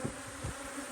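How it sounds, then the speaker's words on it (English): Honey bees hum densely around open hives during an inspection. The buzzing is a steady close swarm drone lasting about a second, with no voices. "Got bees everywhere today."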